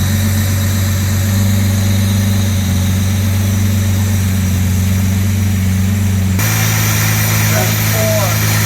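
A 1962 Jaguar E-Type with its original 3.8 engine idles steadily and close by, a smooth continuous rumble that shifts slightly in tone near the end.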